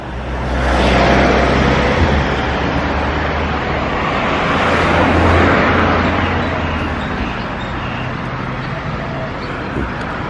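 Car park at the White Temple, Wat Rong Khun, in Chiang Rai, Thailand, with a broad, loud wash of traffic and engine noise that swells and eases as cars pass.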